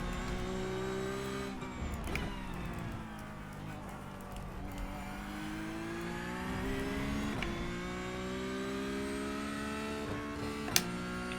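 Porsche Cup race car in iRacing at Road Atlanta, its engine droning steadily through a long run of gear changes and shifts in pitch, with occasional sharp clicks and a brief tire-scrub noise, heard with no talking.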